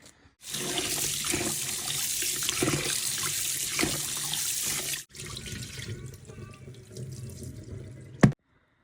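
Lentils (dal) being washed in water at a kitchen sink, with a steady run of splashing and pouring that stops briefly midway, resumes more softly, then ends on a sharp knock.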